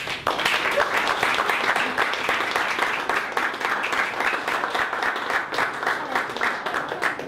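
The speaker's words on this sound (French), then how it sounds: "on applaudit bien fort" A television studio audience on a Martinique talent show claps warmly to welcome a participant, a continuous, even wash of many hands that holds steady throughout.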